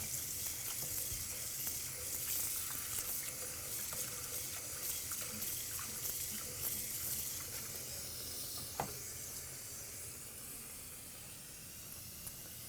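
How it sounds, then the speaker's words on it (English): Tap water running constantly into a sink while a polymer letterpress plate is washed out, a continuous soft hiss with faint splashes and one brief clack partway through. "I have constantly running water because I want my water to be fresh."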